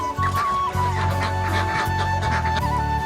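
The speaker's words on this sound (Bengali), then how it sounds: "হাঁস মুরগির ঘর খোলা এবং ওদেরকে খাবার দাবার দেওয়া।" Ducks and chickens at a village coop in the morning, clucking and quacking close by as they are let out and fed, with overlapping bird calls over a steady background hum.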